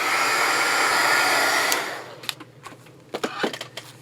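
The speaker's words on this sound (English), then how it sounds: "then I'll dry it a little bit with my dryer." A hair dryer blows steadily and fairly close while drying a paper craft piece for an envelope junk journal, then cuts off after two seconds and is followed by a few light handling clicks and taps.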